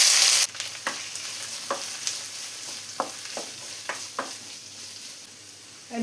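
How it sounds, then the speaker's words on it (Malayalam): Three sliced onions sautéing in 2.5 tablespoons of oil in a pan: a low steady sizzle punctuated by about eight distinct scrape-and-tap stirring sounds at irregular intervals, no speech. "ഇതിലോട്ട് 3 സവാള സ്ലൈസ് ചെയ്ത് വെച്ചത് ചേർത്ത് കൊടുക്കണം."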